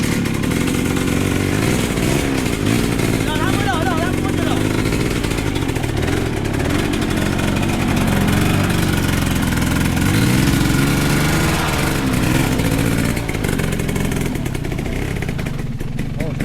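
A motorcycle engine runs steadily and loudly close by throughout, with people talking over the drone.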